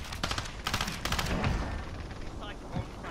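Rapid bursts of gunfire in the Call of Duty video game, several quick volleys of shots in the first half followed by quieter scattered reports, loud and close.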